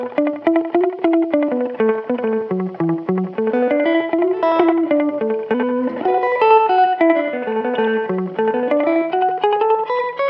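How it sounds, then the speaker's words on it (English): Electric guitar through a Fuzz Imp Echo Moon delay pedal with a short slapback setting, playing a fuzzy, loud melodic line of rising and falling notes with quick tight echoes. "We'll turn our delay time down low."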